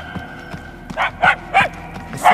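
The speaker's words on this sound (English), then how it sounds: "The barks are getting louder, at least." Dogs bark in the Guardians of the Galaxy video game on Knowhere, four distinct barks spaced roughly evenly and growing slightly louder, with faint game ambience between them.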